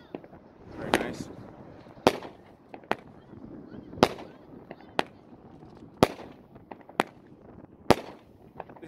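A Dominator Live 25 200-gram firework cake fires off a series of sharp, loud bangs, about eight reports spaced roughly a second apart with crackle and faint chatter between them.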